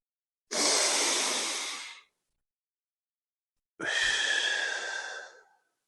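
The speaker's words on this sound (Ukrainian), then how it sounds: "ви робите глибокий вдих і затримуєте буквально на 3 секунди дихання вверху, а потім видихаєте" A deep breath drawn in over about a second and a half, then a pause of silence, then a long exhale of similar length, both airy and close.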